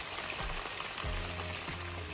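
Pieces of chicken roast sizzle and crackle in medium oil in a pan, a steady close frying hiss with occasional louder pops and stirring shifts throughout.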